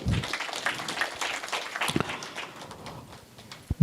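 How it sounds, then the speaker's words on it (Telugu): An audience claps together in a short, moderately loud burst of applause, a dense patter of hands that thins out toward the end. "చప్పట్లు."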